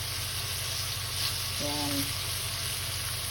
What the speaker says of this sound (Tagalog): dito ko din igisa yung sibuyas at bawang